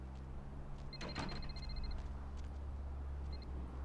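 A short electronic phone-like ringing chirp from the video game Vampire the Masquerade Bloodlines, a repeated trill lasting about a second with a brief second burst later, faint over a low ambient hum.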